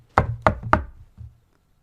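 Three sharp knocks on a door in an even rhythm, close and crisp, followed by a fainter fourth tap and then quiet.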